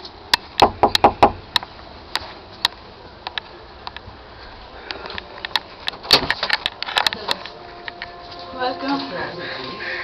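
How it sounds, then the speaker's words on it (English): Several sharp knocks land on a wooden door at a home, clustered close and loud at the start, followed by more clattering taps and rustling as voices begin talking. "So let's see and let's knock on the door."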